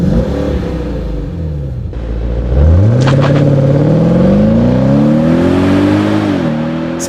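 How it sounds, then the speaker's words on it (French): Infiniti FX Sebastian Vettel edition engine climbing through a loud, close rev, rising steadily in pitch after a quieter idle, with a brief clatter midway and a sustained high-revving roar to the end. "on dispose d'une si belle et exclusive voiture avec une telle sonorité"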